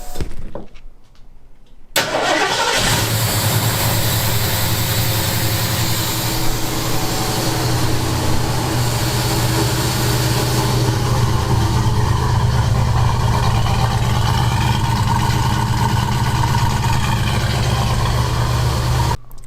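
A 1972 Ford Mustang with a 351 Cleveland V8 and a new ignition system cranks briefly and fires up, then settles into a loud, steady, rumbling idle that carries on close by with no talking.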